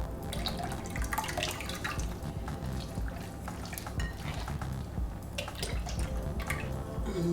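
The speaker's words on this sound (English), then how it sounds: "First wash done, so I'm just going to tip the water into another bowl." Water used to wash flour dough is tipped from one bowl into another in a home kitchen, giving a soft, continuous splashing and trickling with scattered drips and light clinks of the bowls, close and fairly quiet.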